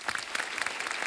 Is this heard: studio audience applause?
yes